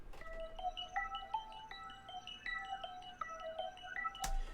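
Quiet mallet bell melody passed through a wide motion filter, soft chiming notes in an even pattern with a gently moving tone, ending on a brief louder hit, no talking.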